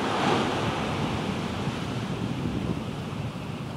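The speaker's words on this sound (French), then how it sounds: "une dernière petite vague pour la route" An ocean wave breaks on the shore, a broad steady wash of surf with some wind noise, its rush easing slightly over a few seconds with no voices.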